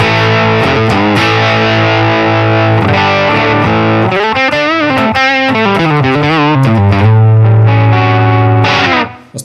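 A Fender American Pro II Stratocaster on its bridge pickup plays loud, bright, overdriven riffs and sustained chords up close, with no voices over it.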